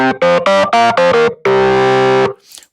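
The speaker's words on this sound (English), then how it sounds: "Now, the next thing I'm going to add in a distortion unit" A classic rock organ patch run through a classic distortion unit in the ToneStack app plays a loud, gritty run of five short chords followed by one long sustained chord that cuts off and leaves a brief fading tail.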